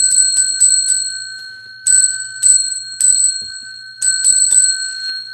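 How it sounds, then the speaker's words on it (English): A bright bell rings in close, loud clusters of quick strikes separated by short pauses, and each strike leaves a clear lingering tone. "Let's ring the bell 10 times."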